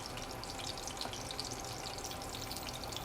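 Food sizzles steadily in a frying pan, a soft, even hiss with faint crackles and no distinct stirring, quiet and without speech.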